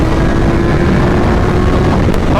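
A 2022 Kawasaki Z1000SX running a flash-tuned ECU drones loudly and steadily under heavy wind rush, heard up close from the rider's position.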